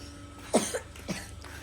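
A couple of short coughs, close and fairly soft, with a quiet room in the background.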